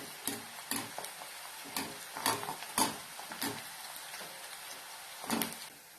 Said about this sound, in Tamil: இது மாதிரி நல்லா எல்லாத்தையும் மொறு மொறுன்னு பொரிய விட்டு எடுத்துக்கோங்க